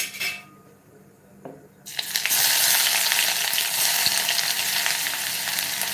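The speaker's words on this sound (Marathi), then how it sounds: "आता आपण इथे तेल गरम करून घेतलेलं आहे त्याच्यामध्ये आता आपण एक बारीक चिरलेला कांदा घालूया" Finely chopped onion hitting hot oil for an aloo palak dish: after a quiet moment with a light clink, a loud bright sizzle bursts in and holds steady, close up, with occasional stirring scrapes.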